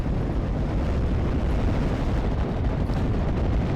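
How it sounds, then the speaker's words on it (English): Continuous mortar fire in the WWII strategy game Steel Division: Normandy 44, a dense, steady roar of rumbling blasts blurring together at constant loudness with no clear gaps. "my mortars are still going onto those units as well"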